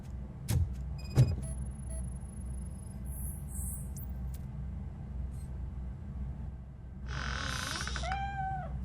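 Cat meowing in RoboCop: Rogue City, a couple of short faint meows and later a longer drawn-out meow over a low ambient hum, with sharp thumps and other game sounds early on.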